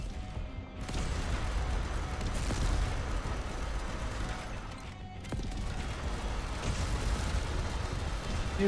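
Explosions from the weapons in the zombie survival game Yet Another Zombie Survivors, a dense and continuous roar of blasts and crashes. Louder bursts hit around the first and seventh seconds, with no speech over them.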